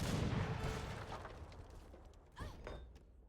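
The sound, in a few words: mortar firing in video game Age of Empires III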